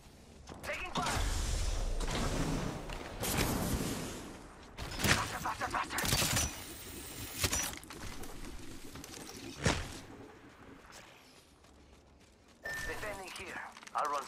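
Apex Legends gunfire during a ranked PS5 match: bursts of shots and sharp impacts come in clusters, some loud and close, mixed with mechanical clatter while voices talk over the action.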